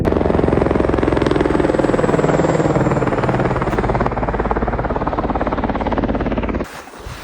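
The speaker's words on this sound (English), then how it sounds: "you can still see the helicopter coming by right here" A helicopter's loud, steady rotor thrum near Mount Everest dominates, holding close and constant before cutting off abruptly near the end.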